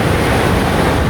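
Steady broadband wash of waves at the water's edge on Navegantes beach in summer heat, loud and continuous, no voices.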